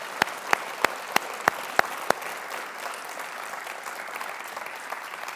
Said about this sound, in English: Let's show them all our appreciation, please, by a big round of applause.